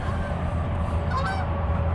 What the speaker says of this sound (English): geese flying overhead